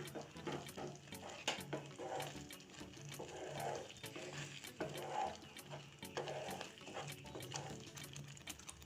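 Restaurant-style cashew curry gravy with kasuri methi and garam masala is stirred in a pan, giving quiet, repeated scraping strokes in a steady rhythm over a soft sizzle.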